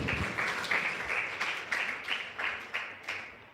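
A church congregation claps together in a steady rhythm of about eight firm beats, fairly faint and without talk.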